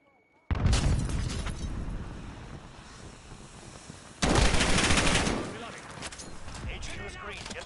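Modern Warfare gameplay erupts with a sharp explosion, followed by rolling rumble and rapid gunfire, then a second big blast about four seconds later, over more shooting, with voices shouting among the noise.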